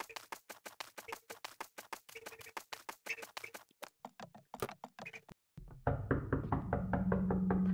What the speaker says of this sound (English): There's a knock at the door.